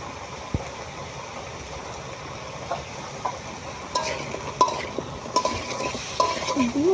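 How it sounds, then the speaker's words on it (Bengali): Vegetables fry with chili powder, turmeric and salt while a spoon stirs and scrapes the pan, giving an even sizzle broken by irregular clinks and scrapes that grow busier toward the end; no voices. "ভালো করে নেড়ে চেড়ে কষিয়ে নেব।"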